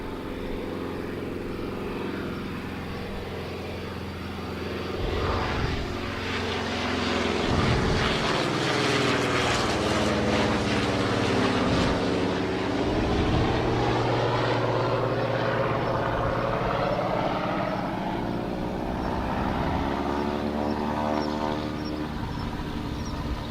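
A propeller airliner at Tauranga airport, likely an ATR turboprop, drones loud and steady throughout, its pitch sweeping as it passes with a rising and falling engine roar, no voices present.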